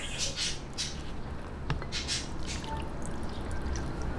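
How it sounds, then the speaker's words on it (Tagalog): Water is poured slowly into a bowl for okoy batter, trickling and splashing close by, with soft bubbling and occasional faint squeaks throughout. "dahan-dahan lang po yung paglalagay ng tubig"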